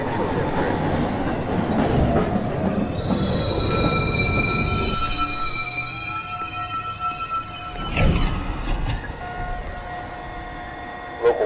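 An uptown NYC subway local 1 train pulls into the station, a loud rumble easing into long high wheel squeals and a brief clank near the end, with no talk.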